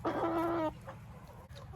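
A young rooster, one of the meat cockerels kept apart from the hens, gives a short loud call lasting under a second, followed by softer clucks nearby.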